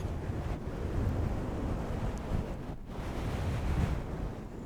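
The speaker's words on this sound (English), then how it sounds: "All that matters is the sound of the waves are gently helping you drift off to sleep." Ocean waves wash onto a beach in a steady, continuous roar with gentle swells, mixed with some wind rush and no voices.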